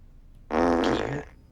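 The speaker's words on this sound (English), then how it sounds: "Make a fart." A single fart-like sound lasts under a second, loud and close, buzzing and slightly wet, with no one talking over it.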